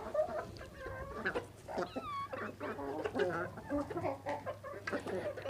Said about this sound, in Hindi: परिंदे बहुत शौक़ से मुर्गियां खा रही हैं